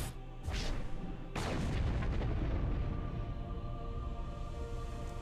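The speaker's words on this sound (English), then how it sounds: "Oh no, they destroyed the Halo." A massive explosion destroys the Halo ring in Mass Effect 2, two sharp blasts followed by a long, loud rumbling roar that sustains to the end, no talking over it.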